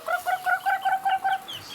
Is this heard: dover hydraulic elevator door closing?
no